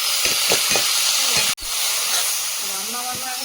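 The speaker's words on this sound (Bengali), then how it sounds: "একটু ঘেঁটে নাও" Bathua greens and shrimp, seasoned with salt and turmeric, are stirred in a frying pan over a steady broad sizzle, with a few soft scraping strokes early on and a brief break partway through.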